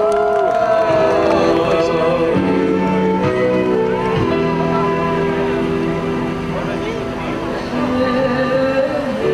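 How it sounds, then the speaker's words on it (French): An outdoor crowd at a public Hanukkah candle lighting on Place de Bordeaux in Strasbourg, applauding and cheering loudly with whoops; the noise stays steady and close throughout, with voices mixed in. "applaudissez s'il vous plaît"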